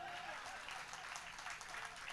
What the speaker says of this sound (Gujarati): એક હારે તાળી નહીં પાડો ત્યાં સુધી હું અહીંયા જ ઊભો રહી.